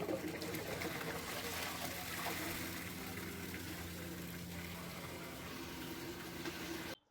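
Water gushes steadily into a cooking pot for a Dindigul-style wedding basmati biryani. The loud, continuous pour runs for about seven seconds, then cuts off abruptly.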